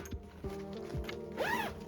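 A zipper on a barber backpack being opened, a few short rasping zips with a final longer pull, close and fairly quiet.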